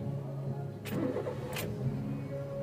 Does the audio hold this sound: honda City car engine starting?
yes